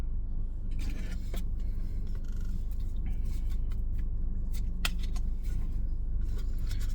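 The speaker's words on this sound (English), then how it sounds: "no matter how hard I try to shuffle this deck" Tarot cards being shuffled, giving a run of papery riffles and flicks over a steady low background rumble, with no voices.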